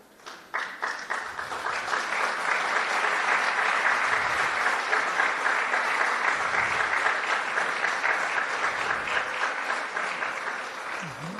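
Sustained audience applause at a lecture in Chile, dense clapping from a large crowd that swells quickly and holds steady for about eleven seconds with no voices over it.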